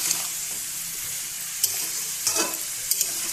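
Spices with green and dried chillies sauté in a pan, a soft sizzle broken by a few scraping stirs of a spoon, fairly quiet and close.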